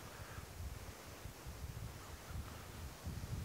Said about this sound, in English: Even with the wind protection, you can hear the wind.